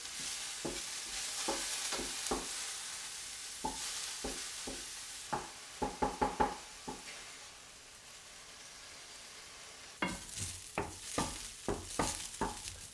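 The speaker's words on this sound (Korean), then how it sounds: "아, 계란 볶았구나. 네, 옆에다 같이 볶고 있어요." Eggs stir-fried in a pan for a vegan poke bowl, heard as a broad sizzle under repeated quick spatula scrapes and taps in bursts, easing off briefly midway before a louder stretch of sizzling and stirring returns.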